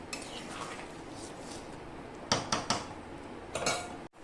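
Egg tadka is scooped and poured from a pot into a serving bowl, with soft scraping and a few sharp metallic clinks of a spoon against the cookware, close and fairly quiet.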